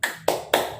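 Three crisp hand claps from a group doing a tepuk hebat clapping cheer, evenly spaced and close, each a sharp snap with a short ring.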